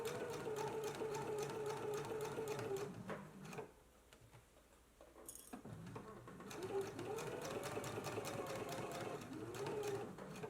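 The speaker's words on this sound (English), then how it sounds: "we're going to go to the sewing machine and do a stitch in the ditch" Sewing machine running steadily while stitching in the ditch along a pressed seam of a dress, with a short pause in the middle before the whirring resumes at close range.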